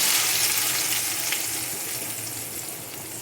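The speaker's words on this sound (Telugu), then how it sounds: "ఆయిల్ వేడెక్కేసింది సో నేను ఇది ఫైన్గా పేస్ట్ చేసుకున్నది ఇందులో ట్రాన్స్ఫర్ చేసేస్తుంది" A spice paste for fish curry fries in hot oil with a loud, continuous sizzle and crackle that slowly eases off.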